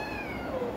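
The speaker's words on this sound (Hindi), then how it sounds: "जो पीछे से आपको बिल्ली बच्चे की आवाज़ आ रही है ना" A kitten gives a single short, high, wavering meow over a quiet, hissy background.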